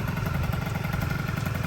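An MBK Nitro scooter with a new 70cc Top engine and Yasuni exhaust idles close by, a steady buzzing two-stroke putter with a fast, even pulse throughout.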